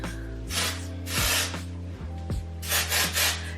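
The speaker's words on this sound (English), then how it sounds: "I spray a little bit of the Moroccan Oil Dry Texture Spray." Moroccan Oil Dry Texture Spray is misted onto hair in several short, close hissing aerosol bursts with brief pauses between them and no talking.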